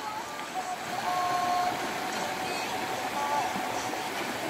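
Water runs steadily from a tap beside a jungle camp deep in the Truong Son forest while the youngest member of the group brushes his teeth. It makes a continuous soft wash, with faint thin whistles above it.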